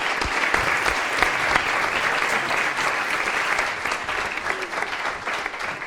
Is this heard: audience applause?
yes